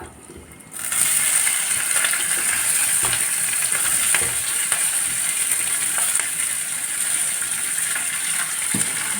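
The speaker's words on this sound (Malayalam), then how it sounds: "ഇതിലേക്ക് നമ്മുടെ സവോളയും പച്ചമുളകും ഒരു വെളുത്തുള്ളിയും ചേർക്കുന്നുണ്ട്" Urad dal, sliced onion, green chilli and garlic hit hot oil in a pan, and a loud sizzle bursts in almost at once, then holds steady and dense with a few faint ladle taps.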